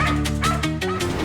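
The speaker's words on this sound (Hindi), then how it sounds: "इसीलिए पिया का वो कुत्ता बार बार भौंक रहा था।" A dog barks and yips in quick repeated bursts over a loud sustained musical drone, close and prominent in a crime drama scene.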